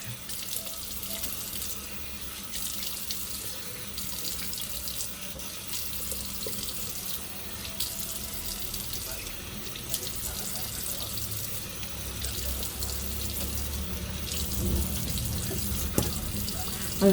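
A faucet runs steadily into a sink while sugar scrub is rinsed off skin, a soft continuous splashing hiss with small shifts as hands move through the stream.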